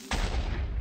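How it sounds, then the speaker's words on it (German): A single Minecraft creeper explosion that knocks the player back, a sudden loud broadband blast with a sharp onset and a sustained rumbling roar that fills the rest of the moment. "Dieser hier macht Explosionen, die einen wegschleudern."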